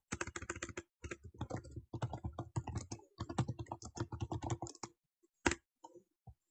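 Rapid keystrokes on a computer keyboard while code is typed, a steady run of close, crisp clicks for about five seconds, then a pause and one or two final taps.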